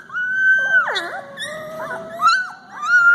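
Young puppies whimpering and whining in high, wavering cries, several overlapping squeals rising and falling close by, with no talking.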